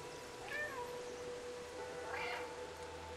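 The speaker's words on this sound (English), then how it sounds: "the first thing they teach you in this game is how to meow" Cat meowing in the video game Stray, two short distinct meows about two seconds apart, fairly quiet over a low background hum.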